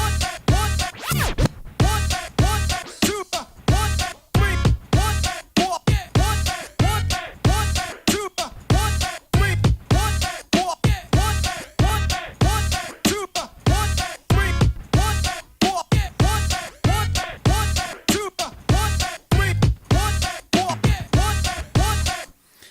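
A DJ juggles and scratches records on turntables at a too-slow, even pace, producing a steady loud rhythmic pattern of repeated beat fragments and scratch strokes with no talk.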